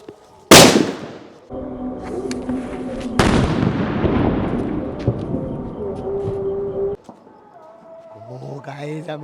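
A large Diwali firecracker bomb goes off with a sharp loud blast, followed by a second heavy boom with a long rumbling decay, then fainter crackles and a voice near the end.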